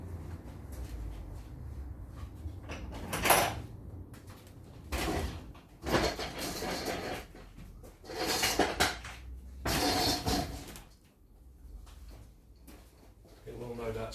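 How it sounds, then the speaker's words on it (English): A Land Rover Series 3 door with a 2 1/4 diesel engine is opened, giving a few loud metallic clunks and rattles close by, with quieter background noise between them and a pause near the end. "In fact, I'm going to open this door."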